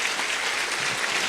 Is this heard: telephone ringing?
no